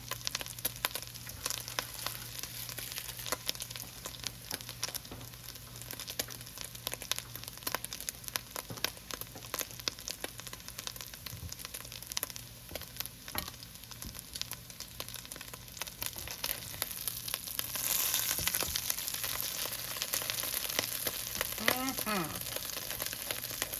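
Bacon frying in a pan, a steady sizzle and crackle running throughout with scraping and clatter of a utensil against the pan, growing busier toward the end.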